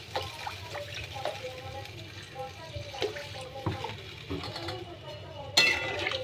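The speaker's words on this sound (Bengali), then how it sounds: "এইবার আমার গরম জল রাখা আছে, আমি গরম জল ঢেলে দিলাম।" Hot water is poured into a pan of cooking bhetki fish with taro, making a wet splashing and bubbling sizzle broken by clinks of utensils against the pan, with a louder clatter near the end.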